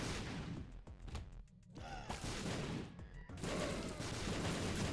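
Sustained gunfire from the player's weapon in a video game, a dense stream of rapid shots with brief gaps, thuds and muffled impacts mixed in, loud and continuous with no talking.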